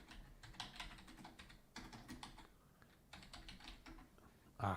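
Rapid clatter of keys on a computer keyboard, steady and close, with a louder knock at the very end.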